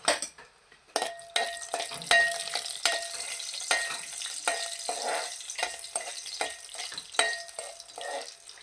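Cashew halves roasting in a pan over a low gas flame, with light sizzling and repeated clinks and scrapes of a utensil against the pan in an irregular rhythm, close and moderately loud.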